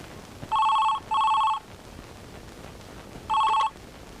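A telephone rings in three evenly spaced electronic trilling bursts, loud and clear over quiet background hiss, with no talking.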